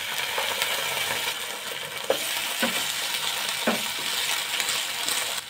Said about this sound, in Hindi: अब इसमें मसाला डालेंगे, तो मैं इसमें अदरक लहसुन का पेस्ट डाल रही हूँ।